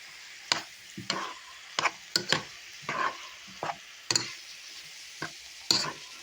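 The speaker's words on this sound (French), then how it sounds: "Vous pouvez tout mélanger, hein." A spoon stirs paprika into Hungarian goulash in a pot, giving sharp scraping knocks and clinks at an irregular pace over a faint sizzle, close and fairly quiet.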